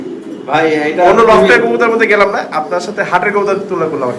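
Racing pigeons in a loft coo softly and repeatedly beneath a man's steady, close-up talking, which dominates throughout.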